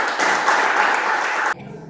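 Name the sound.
applause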